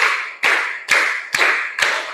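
Five evenly spaced, sharp hand claps, close and loud, making a steady rhythmic classroom clapping pattern, with no talking.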